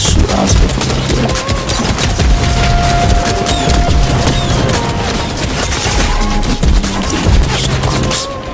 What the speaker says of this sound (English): we can shoot Oscar from up here